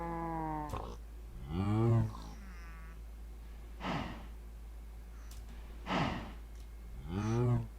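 Moo fluid cows in the Minecraft Sky Factory modpack give a couple of drawn-out, fairly loud bovine moos over steady low game ambience, with soft breathy puffs between them.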